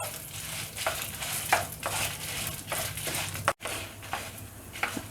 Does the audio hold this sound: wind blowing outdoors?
no